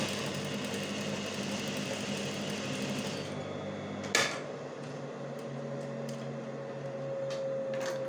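A sewing machine runs a steady, fast stitching whir while sewing a flat-felled seam on linen, then stops abruptly with a click, followed by quieter handling noises before the motor hum resumes.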